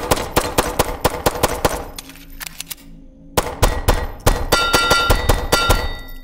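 Bullets strike metal in the video game HellSign, producing rapid bursts of sharp clanging impacts and gunfire, with a short quieter gap before more dense metallic hits.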